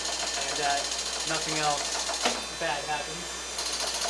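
A surface grinder runs steadily with coolant, giving a continuous mechanical hum and whine close by while someone speaks over it.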